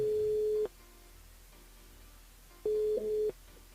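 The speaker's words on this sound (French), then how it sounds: "on appelle Sandra du côté de Saint-Pierre." A phone line rings out as a radio call-in show dials a listener. Two steady ringback tones play, one at the start and another a couple of seconds later, with a quiet line hiss between them.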